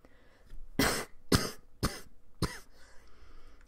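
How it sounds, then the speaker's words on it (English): A person coughs four times in sharp, harsh bursts, close and loud, with short pauses between them and no talking. "Sorry, guys, these coughs."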